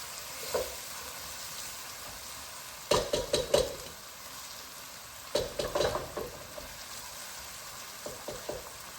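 Onions caramelising with fresh green chillies sizzle steadily in a pan for a chicken jalfrezi, broken by a few bursts of scraping and clattering stirring that come in short clusters over the constant low frying hiss.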